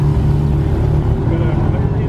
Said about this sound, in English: Then we got the straight pipe Carrera GT.